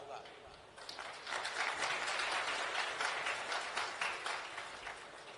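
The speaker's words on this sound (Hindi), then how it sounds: "अब ताली तो बजा रहे हो" An audience at a Hindu religious discourse breaks into sustained applause, a dense wash of many hands clapping that swells after a moment and holds steady at a fairly distant level.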